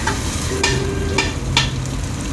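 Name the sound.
Maggi noodles being stir-fried with spices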